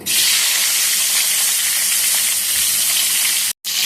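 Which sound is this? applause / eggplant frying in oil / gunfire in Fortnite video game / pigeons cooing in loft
eggplant frying in oil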